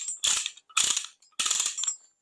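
Ratchet mechanism of a KYNNX chain binder unwinding, three quick bursts of dense metallic clicking separated by short pauses, close and crisp with no voices.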